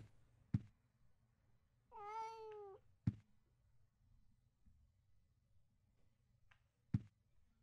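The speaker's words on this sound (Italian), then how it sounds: "Abbiamo un gatto nella panca." A single short cat meow from the video game Silent Hill 4 rises and falls between sharp, isolated clicks or thumps against a quiet background.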